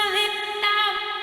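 Chopped, pitched vocal snippets drenched in heavy reverb slide between notes in a washy, sustained electronic texture, with no other sounds.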